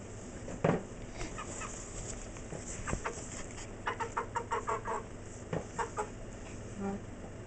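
A chicken clucks in a run of soft, quick, rhythmic clucks, moderately close but fairly quiet, mixed with light tapping and a few scattered knocks and rustles.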